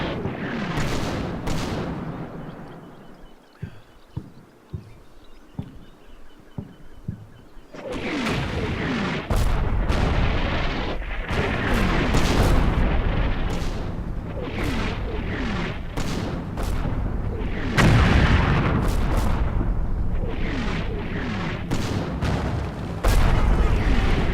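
An artillery barrage in the World War II strategy game Combat Mission Final Blitzkrieg, fought around Cheneux: after a quieter stretch of scattered thuds, heavy booming impacts and rumbling blasts pile up continuously and loud for many seconds, with faint talk early on.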